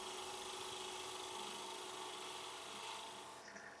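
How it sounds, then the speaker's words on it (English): A wood lathe makes a peeling cut on a wooden ring stand, bringing it down to diameter. It gives a faint, continuous rasping and scraping hiss with a faint steady hum behind it, and it tails off at the end. "just a peeling cut getting down to the diameter"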